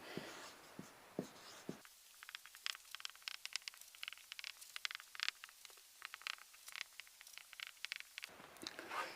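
Handwriting during a chemistry lesson on acids and metals, a pen or chalk scratching and tapping in quick irregular strokes, close and quiet, with no speech.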